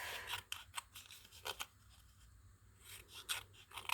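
Scissors cutting magazine paper for card making, with quick close snips and crisp paper rustle in short bursts, quiet and without speech.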